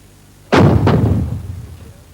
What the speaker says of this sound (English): An artillery battery showed how it could fire off its guns